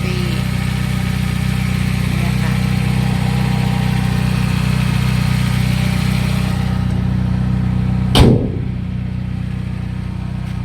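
Toyota car with an 1800cc engine and automatic transmission idles steadily and smoothly up close, a constant low rumble broken once by a sharp click or thump near the end.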